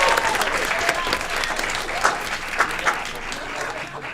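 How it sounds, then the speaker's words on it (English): A city council meeting crowd applauds steadily, a dense wash of clapping from many people in a room with a few louder claps rising near the middle; faint voices mix underneath. "Another round of applause."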